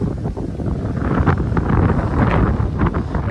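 Strong wind gusts across an open farm field during an evening onion harvest, roaring loudly and buffeting the microphone in a continuous rush with no speech.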